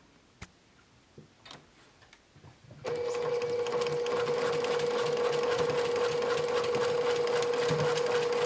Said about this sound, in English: now we're going to go to the sewing machine and sew with a 1/4 inch